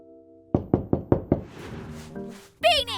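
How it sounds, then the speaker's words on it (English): Five sharp knocks on a door in a children's cartoon, evenly spaced and loud, with a steady tone beneath and a brief bright musical flourish at the end. "Oh, it's a door, DJ."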